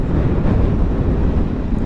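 Wind rushes against the microphone while riding a Bajaj Chetak electric scooter, a loud, steady, broadband roar filling the whole stretch with no pause, close and buffeting, with no talk.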